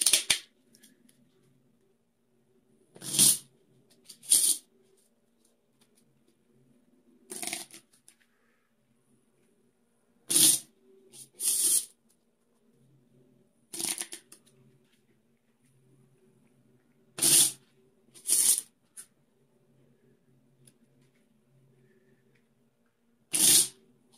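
Short bursts of shuffling a deck of playing cards for the game Project Dreamscape, about nine in irregular sequence, crisp riffling sounds close by with quiet pauses between.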